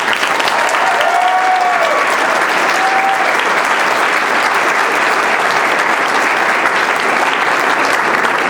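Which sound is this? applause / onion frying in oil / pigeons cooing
applause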